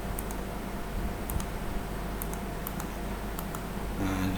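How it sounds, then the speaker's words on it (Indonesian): Computer mouse scroll wheel ticking in short bursts while zooming in PCB layout software, faint clicks over steady room noise with no talk. "Aktifkan scroll mouse kamu."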